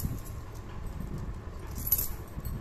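Four one-rupee coins shaken inside a handmade baby rattle toy woven from plastic wire, giving a steady, continuous metallic jangle and clatter up close with no talking.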